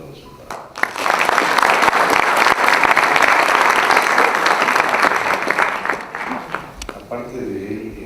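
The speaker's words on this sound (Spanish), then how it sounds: "así que pido un fuerte aplauso para él" An audience gives a loud round of applause at a macroeconomics book presentation, swelling quickly, holding strong for several seconds, then thinning out as a voice begins speaking near the end.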